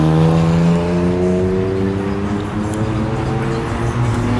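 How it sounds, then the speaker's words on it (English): Cars streaming through traffic at the junction of Central Ave and Hillsborough Ave, with a steady engine drone and a clear passing vehicle whose pitch slides, loud and continuous without speech. "You can see how the cars are coming in from Florida Avenue."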